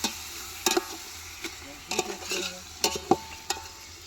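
A ladle stirring food in a hot pan over a steady sizzle, with sharp metallic scrapes and clanks at irregular intervals, close and clear.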